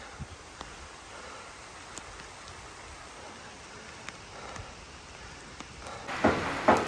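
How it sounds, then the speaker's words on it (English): Rain is starting to fall on leaves on a remote Solomon Islands hillside, a faint soft hiss with sparse drop ticks, which swells into a louder rustling burst near the end. "And it's starting to rain."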